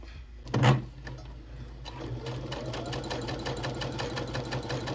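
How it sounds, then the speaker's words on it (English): A sewing machine hemming knit fabric with a twin stretch needle, a brief clunk followed by a steady rapid stitching hum and tick that runs close and even to the end, no speech. "I'm just sewing."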